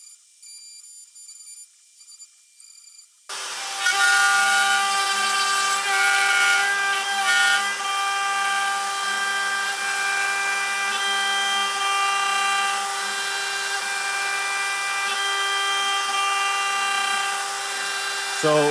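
Shapeoko CNC router carving a wooden Christmas cabin sign with a 90-degree V-bit, a high steady spindle whine that kicks in after a quiet start and holds with a faint rhythmic pulsing, loud and continuous.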